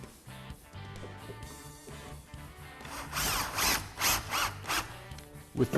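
A power drill drives screws into a wooden drawer box held square by corner clamps, with quiet handling noises first, then several close whirring bursts.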